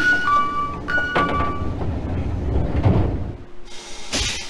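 Train doors slide shut with a chime and thud on a Hokuhoku Line rapid service bound for Echigo-Yuzawa in the Densha de GO! game, followed by rumbling departure noise and a closing bump.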